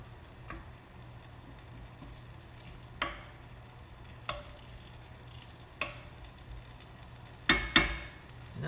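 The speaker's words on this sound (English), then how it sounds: "This butter is melted. You can hear it sizzling here." Butter melts and sizzles in a pan while candy is made, a quiet steady frying hiss with a few soft clicks and stirring knocks, no talking.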